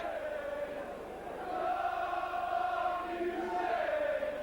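A partisan St Helens Saints rugby league crowd roars steadily throughout, swelling louder after the first second and holding a broad, continuous din at a distance during a match against Castleford.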